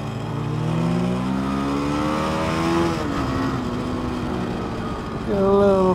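A BMW G310GS motorcycle on a race track accelerates hard, its engine climbing through rising revs, easing briefly, then pulling up again, loud and close with continuous wind noise.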